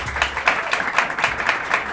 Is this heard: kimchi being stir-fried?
no